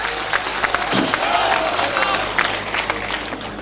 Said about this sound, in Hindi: जोरदार तालियों से आदरणीय कमलनाथ जी का स्वागत करिएगा